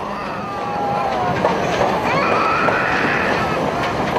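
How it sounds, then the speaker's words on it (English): A train rumbles steadily along the tracks in Bombay with a constant low roar, faint wheel squeals and metallic screeches rising above the noise. "through their dreams and nightmares the trains rumble on."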